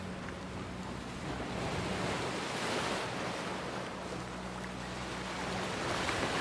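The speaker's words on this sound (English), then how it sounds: "Over here, the ocean's moving again." Ocean waves in Banishers: Ghosts of New Eden, a steady rushing surf with gentle swells, moderately loud and alone without voices.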